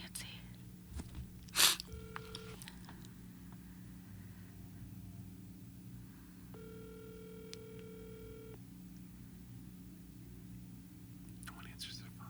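An outgoing phone call rings back twice with steady electronic tones separated by a pause, heard over a low hum, with a brief voice earlier.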